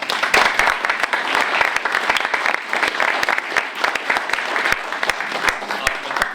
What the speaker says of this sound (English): Could you give a round of applause for Jessica Rossiter and Stephanie Meaghan?